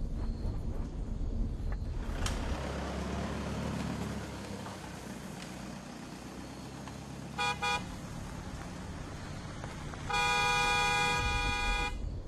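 Two car horn honks, a short double beep and then a longer blast, sound over steady road traffic and engine rumble.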